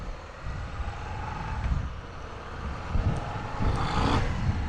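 Harley-Davidson Street Bob motorcycle with its 114 cubic inch motor rounding a roundabout on brand new tyres: a steady, close, low engine rumble mixed with wind noise, swelling slightly toward the end.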